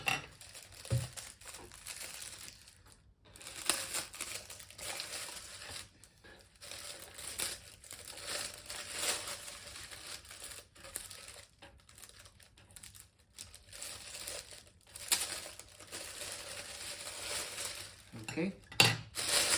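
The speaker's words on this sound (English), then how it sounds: "I'm just going to take this out of the plastic" Plastic packaging crinkles and rustles as a cheap bedroom lamp is pulled free, a close, irregular stream of crackling and crumpling bursts with short pauses, lasting the whole stretch.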